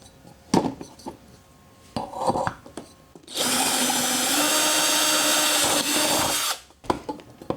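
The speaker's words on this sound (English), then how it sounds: "That's both pilot holes drilled." A power drill drills pilot holes in a Suzuki Grand Vitara for fog light installation, running steadily for about three seconds at close range, loud and continuous, with quieter clicks and handling knocks before and after.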